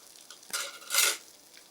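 Chopped green chillies hit the hot oil in a pan where onions are already sautéing for a mutton garlic fry, giving two short bursts of sizzling hiss with light stirring scrapes in between, close and fairly loud, with no voice.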